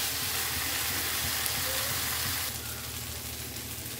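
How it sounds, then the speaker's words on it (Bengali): Masala for shrimp curry stir-fries in a pan with a soft, steady sizzle and faint scraping, quiet and even throughout and dropping slightly near the end. "এইবার এখন এটা একটু কষবো।"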